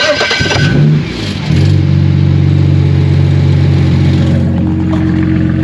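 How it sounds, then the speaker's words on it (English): A loud BMW car with a loud exhaust cranks briefly, catches and fires up, then settles into a smooth, steady idle, recorded close to the exhaust. "the car starts right up"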